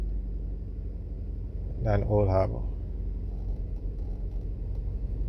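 Slow, congested road traffic through Old Harbor in St Catherine, Jamaica, with a steady low vehicle rumble running unbroken through the whole stretch and a brief burst of someone speaking near the middle.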